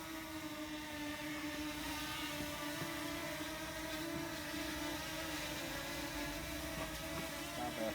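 A DJI Mini 2 drone hovers and flies nearby, its steady high-pitched propeller whir holding constant and fairly loud throughout, with no voices.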